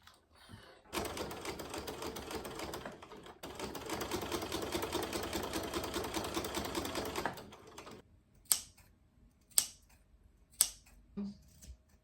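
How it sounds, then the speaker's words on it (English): A sewing machine runs in a fast, continuous rattling burst for several seconds, then stops, followed by a few sharp clicks and knocks. "Hopefully my sewing machine cooperates, and this only takes a few minutes"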